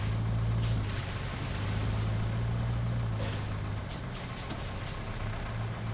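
A truck engine in the video game RoadCraft drones at a steady, low idle rumble that holds throughout, with brief hissing bursts of air layered above it and no talking.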